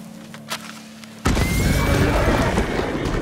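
A dynamite blast bursting open a stagecoach in Red Dead Redemption 2: after a quiet stretch with a horse's snort, a sudden loud explosion erupts and rumbles on as a broad roaring wash to the end.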